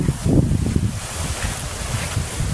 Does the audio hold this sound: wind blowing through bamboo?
yes